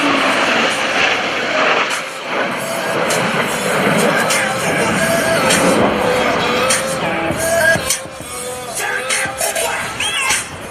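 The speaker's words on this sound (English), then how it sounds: "From behind the spectator area, Blue Angels 5 and 6 are approaching the flight line in a line abreast formation at 400 miles per hour" Two US Navy Blue Angels jets approach at airshow speed in line abreast formation, a loud, building roar of jet engines sweeping overhead with a rising and falling whine, while crowd noise and an announcer's voice sound faintly beneath.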